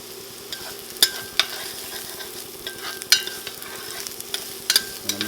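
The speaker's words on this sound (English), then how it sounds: "We're gonna take our garlic, medium-high heat, drop it in. Next, diced onion." Garlic and diced onion sizzle in avocado oil over medium-high heat while a utensil stirs them, with a steady crackle under repeated scraping clinks and taps against the pan.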